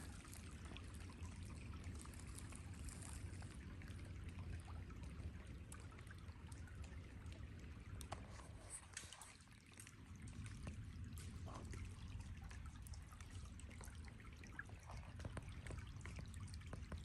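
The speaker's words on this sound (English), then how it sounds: "Okay, so I got a little creek crossing here" A small, crystal-clear creek trickles along a hiking trail toward Inspiration Point on a frozen morning, a soft continuous burble and splash, faint and fairly close, with a brief dip midway.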